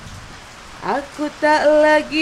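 Steady rain falls throughout, a constant soft patter under a person singing a melodic line in the foreground.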